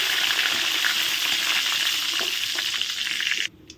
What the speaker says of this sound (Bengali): এখন আমি আলুগুলো ভেজে নেই আস্তে আস্তে করে